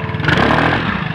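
A RUSI RFI175 scooter engine, newly fitted with an upgraded CVT, revs loudly and close up in one continuous buzzing burst with a rough, clattery edge.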